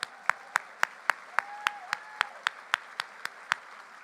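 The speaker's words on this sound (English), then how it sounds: "Let's give them another round of applause." Sharp, evenly spaced claps, roughly four per second, from what sounds like a lone clapper at a student advancement foundation luncheon, with a thin steady tone drifting in partway through.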